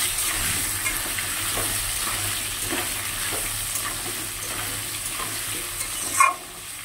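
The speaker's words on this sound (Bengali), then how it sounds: "জিরে ফোড়ন দিয়ে দিলাম।" Cumin seeds sizzle in hot oil in a pan, a steady close crackling hiss throughout with a brief clatter near the end.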